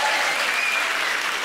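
An audience in a hall claps loudly and densely for a brief moment, a steady wash of applause that stays strong throughout.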